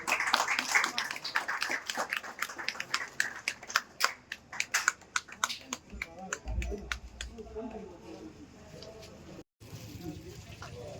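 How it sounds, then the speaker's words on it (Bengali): Audience at a village community centre event clapping in a burst of sharp hand claps that thins out into scattered claps, with murmuring and talk around it. "সবাই হাততালি দেবেন।"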